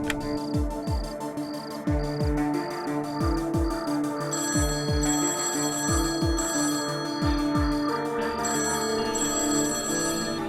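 A ringtone plays steadily in repeated tonal phrases, with soft rhythmic thumps underneath and no voices.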